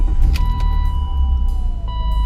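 A car with a Dinan tune starts after a spark plug change, a steady low engine rumble settling into idle close by, with a faint high whine running through it.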